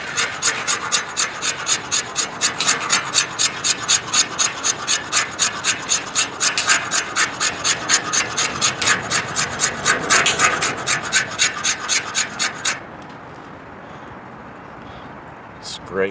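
Rhythmic rasping strokes of a small brush axe's spine scraping wood, steady back-and-forth scrapes repeating for about thirteen seconds close up, then stopping; speech is heard at points.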